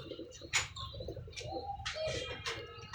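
English pigeons coo softly and closely in a few short throaty calls spaced apart, with faint chirps and wing flutters between them.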